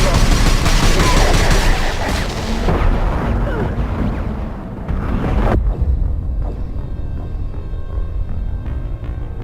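Heavy, dense gunfire and blasts in a Mass Effect firefight, a loud continuous barrage that thins out midway into a sparser rumble of shots and impacts, with no voices over it.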